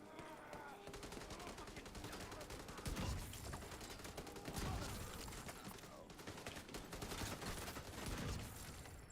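Light machine gun fire in The Division 2 on PC, long sustained bursts of rapid automatic shots that swell in loudness several times, dense and continuous with faint voices underneath.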